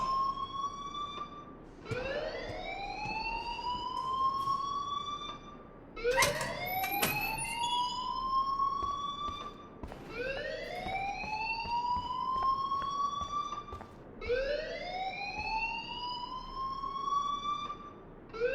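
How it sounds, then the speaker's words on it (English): A rising electronic alarm wails in repeated sweeps in the Life is Strange video game, each swoop climbing then holding for a few seconds, cycling about four times at moderate loudness with no voices. "please turn off that alarm since that's your job"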